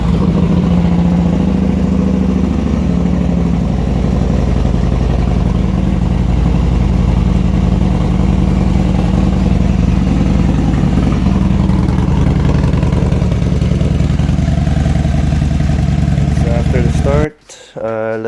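2015 Harley-Davidson Dyna Street Bob FXDB motorcycle engine running at a loud, steady idle after an oil and filter change, a continuous close rumble that cuts off abruptly near the end.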